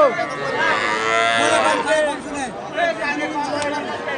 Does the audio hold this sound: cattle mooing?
yes